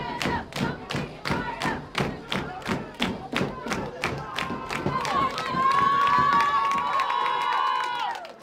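A high school cheer squad at a White Swan High School football game pounds out about a dozen evenly spaced, loud thumps, then breaks into a sustained shouted cheer with crowd noise.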